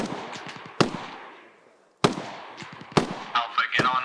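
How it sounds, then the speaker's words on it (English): A few sharp, isolated gunshots from an automatic rifle in a military training video game, with spaced cracks amid voices talking over radio-style chatter. "I gotta shoot some more ammo so I can get lighter."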